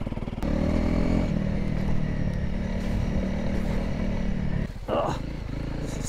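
A Honda CRF300L motorcycle rumbles steadily along a muddy mountain track, engine droning close with some clatter and a short rev, and a voice speaks briefly over it.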